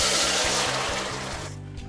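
Hot water being poured into a pot of warm rice on minimum heat, a steady close splashing rush lasting nearly two seconds over a low background hum, easing off at the end.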